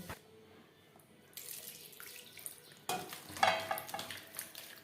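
Tap water runs softly into a sink as hands are rinsed in a kitchen during cooking of a traditional Bengali potato and chicken curry, starting faint and swelling into a louder splashing stream.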